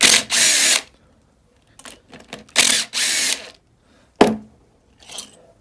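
A power tool whirs in short, loud bursts while backing out two bolts from a Honda XR250L motorcycle engine, with a metallic clank and light handling noises in the pauses between bursts.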